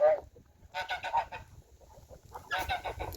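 Geese honk in several short bursts, fairly close, with brief quiet gaps between the calls.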